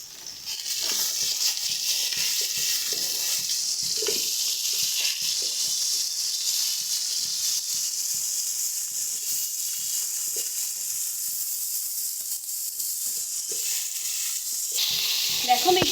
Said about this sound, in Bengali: কুমড়োটা আমাদের সুন্দর মতন মশলার সঙ্গে ভাজা হয়ে গেছে